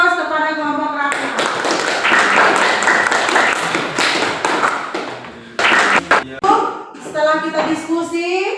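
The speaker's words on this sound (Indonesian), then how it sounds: "Oke, beri aplaus kepada kelompok Rahma." Classroom applause for a student discussion group, a dense patter of many hands clapping steadily at close range for several seconds, with voices of students and a teacher mixed in throughout.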